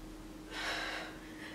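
Heavy exhalation during a Pilates mat oblique ab exercise, a single breathy gasp swelling near the middle and fading, close and fairly quiet over a low steady hum.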